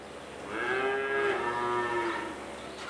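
A dairy cow moos once at milking time on a French farm, a long, close, clear call lasting over a second, with a faint barn hum behind it and no talk.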